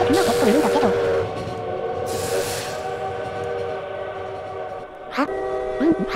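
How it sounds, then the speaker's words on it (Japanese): A train rushes past in the video game Lobotomy Corporation, a loud steady rumble and hiss with tonal horn-like wails at the start and end, and game music layered over it. "多分あれ列車よね。"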